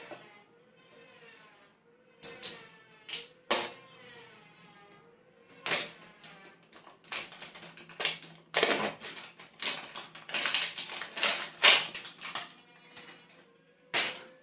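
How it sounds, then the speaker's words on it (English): Packaging for a skincare product is unwrapped up close: sharp crinkles, tears and snaps come in irregular bursts, with quieter rustling between them. "So let's quickly unwrap it."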